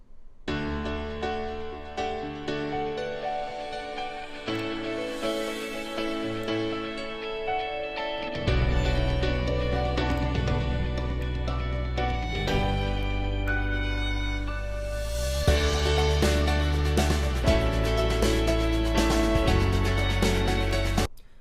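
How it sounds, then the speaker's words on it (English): Polished instrumental music with sustained tones and a deep bass entering partway, building into a fuller, brighter arrangement; no voices. "I was also given some previous brand music that the music house had made for the client"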